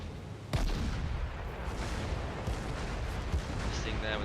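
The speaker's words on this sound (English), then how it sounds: "Missing there with that shot, taking more fire from two other ships nearby." Warship guns boom in World of Warships, naval gunfire and battle noise rolling continuously with a sharp blast near the start and further shots scattered through a dense, loud mix.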